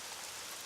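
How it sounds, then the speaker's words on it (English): Steady rain shower hisses evenly throughout in the video game Shining Song Starnova, a dense broadband patter with no pauses or voices. "The drips intensified into a sudden rain shower."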